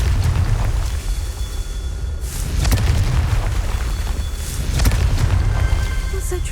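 Explosive bursts from the Confringo spell in Hogwarts Legacy, two sharp booms a couple of seconds apart over a dense, rumbling game soundscape with steady low roar throughout.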